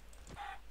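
A Minecraft chicken clucks once, a single brief and faint call from a game character with no one speaking.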